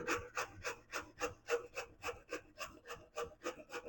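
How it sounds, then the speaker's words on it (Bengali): Raw papaya rubbed against a grater for a vegetarian papaya dish, giving a steady rhythmic rasping scrape about three strokes per second, close and fairly quiet with no talking. "এই ছোট ছিদ্র দিয়ে পেঁপেগুলো একে একে ঘষে ঘষে এইরকম ভাবে ঝুড়ি ঝুড়ি করে পিচে নেব"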